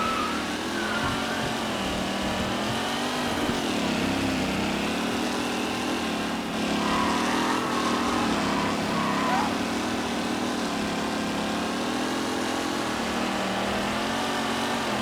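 Vintage race cars roar around a track during a race in Mafia: Definitive Edition, with a continuous, dense engine drone of several motors revving and shifting pitch, and a voice talking over it.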